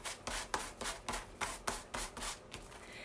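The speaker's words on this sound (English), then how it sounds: "I'm literally just sanding the edges of my fabric with this" Rhythmic back-and-forth sanding, about ten brisk scraping strokes of a block rubbing over fabric, close up with no talking.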